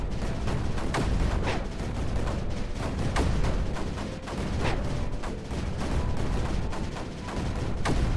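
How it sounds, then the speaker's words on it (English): Cannons in the strategy game Creeper World 4 fire in a dense, continuous barrage, rapid overlapping booms and cracks at a steady loud level with no pauses. "Cannons do cannon things."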